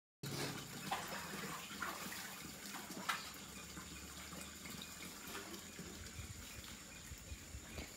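Water pouring steadily into a fish tank during cleaning, a continuous soft splashing gush that runs on without pause and sounds faint and distant.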